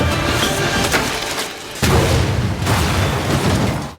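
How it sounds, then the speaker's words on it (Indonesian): An explosion set off by a chemical mixture in a film, heard as a loud, dense roaring blast that fills the clip, with a fresh burst partway through, close and powerful. "Ia menggunakan campuran bahan kimia agar terjadi ledakan."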